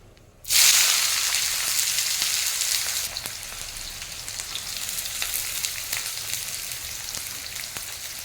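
Chopped onions hit hot oil flavoured with four crushed small cardamom pods, bursting into a loud sizzle that settles into a steady, dense frying hiss over several seconds.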